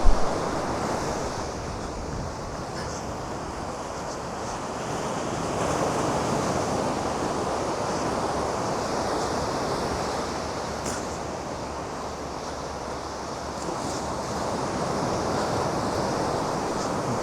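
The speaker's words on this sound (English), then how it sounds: "However, the waves aren't that high." Low, gentle ocean waves at Hakodate Bay near an old cement factory wash in a steady, continuous surf, with a constant wind rumble across the microphone and no talking.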